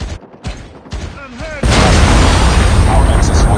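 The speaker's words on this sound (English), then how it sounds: "Hostile Predator missile inbound." A Predator missile explosion from the mobile video game Call of Duty Mobile hits as a sudden loud boom, then a sustained roaring rumble of blast and debris, after a short stretch of radio voice and game sounds.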